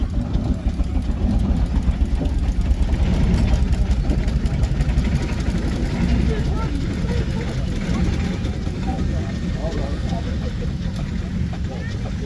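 Steam engines run at the Torbay Steam Fair 2024, giving a steady low mechanical chugging and rumble throughout while someone speaks over it.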